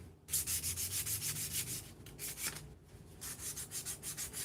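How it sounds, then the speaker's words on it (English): Sandpaper rubbed along the edges of a small wooden kit piece, rhythmic back-and-forth scratchy strokes close up, with a short pause midway before the strokes resume. "I don't know if this sandpaper is rough enough, but you can sand the edges a little bit."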